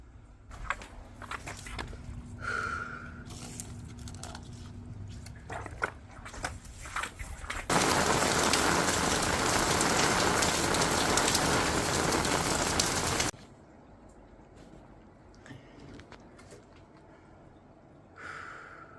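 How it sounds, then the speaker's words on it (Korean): Heavy rain pours onto a surface, a dense, loud hiss that surges for several seconds before dropping back to lighter patter with scattered drips and a few movement sounds around it. "아, 물이 여기까지 찼네. 비가 너무 많이 오니까."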